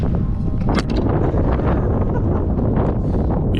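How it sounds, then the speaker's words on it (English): Strong wind roars steadily across the microphone on a bike tour through Southern Italy, a loud, constant buffeting rumble with gusty flutters and no talk. "That was the wind."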